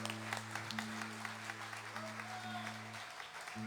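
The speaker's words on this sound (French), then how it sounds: "On l'applaudit bien fort, s'il vous plaît." Festival crowd at a song festival applauding warmly: a steady wash of clapping heard from a moderate distance over a low hum.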